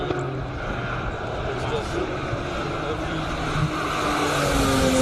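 A Porsche GT3 RS accelerating away on a hill-climb course at a Cape Town speed event, a steady engine roar rising in pitch and volume beneath continuous commentary.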